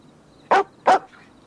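A dog barks twice in quick succession, two sharp, fairly loud woofs close by against a quiet background.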